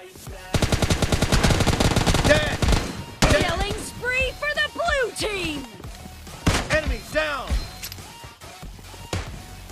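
Rapid bursts of automatic gunfire from the mobile battle-royale game PUBG Mobile, a dense rattling volley in the first seconds, then scattered shots mixed with excited voices talking and shouting over the fight.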